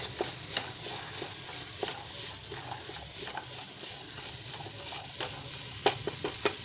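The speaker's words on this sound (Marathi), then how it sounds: "भाज्या छान परतून झाल्या" Potatoes, fresh peas and other vegetables stir-fry in a pan for a pulao, giving a steady sizzle with scattered scraping stirs and a few louder clinks near the end.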